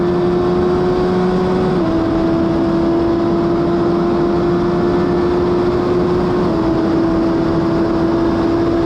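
A 2021 Suzuki Hayabusa sport motorcycle at full throttle on a straight holds a steady, loud, high-pitched engine whine, dipping slightly as it shifts up, with strong wind rush throughout.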